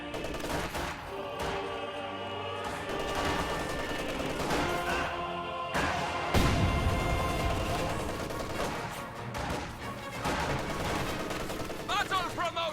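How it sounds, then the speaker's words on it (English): A stolen MG-34 machine gun opens up on Volksgrenadiers in a World War II strategy game, bursts of gunfire mixed with explosions and battle noise under a dense, continuous combat soundscape. "the stolen MG-34 is moving up to fire on the Volksgrenadiers"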